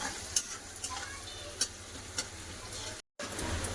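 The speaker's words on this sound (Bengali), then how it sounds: "এবার একটু করে পেঁয়াজ দিয়ে দিলাম পেঁয়াজটা ভালো করে ভেজে নেবো" Onions frying in a pan for chicken biryani, with a steady soft sizzle under occasional sharp clicks of stirring, a brief dropout near the end, no talking.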